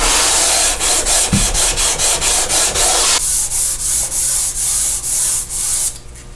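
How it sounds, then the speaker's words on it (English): A guitar fretboard being sanded flat with long rhythmic back-and-forth strokes of abrasive on wood, a loud close scratchy rasp pulsing about twice a second, the tone turning smoother after a few seconds, with no speech. "edges sand faster than the material in the middle"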